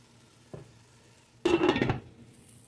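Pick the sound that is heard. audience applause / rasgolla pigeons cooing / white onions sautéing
white onions sautéing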